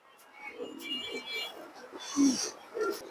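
Pigeons, including a male Giribaz bird kept in a Bangladeshi loft, coo in soft low bursts at close range, with faint background chatter and rustling.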